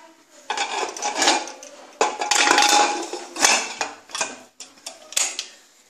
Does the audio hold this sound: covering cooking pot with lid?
yes